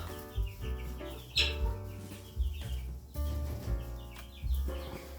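A broody hen clucks in a henhouse, a series of short, fairly close clucks at irregular intervals, with a few louder bursts and no voices over them.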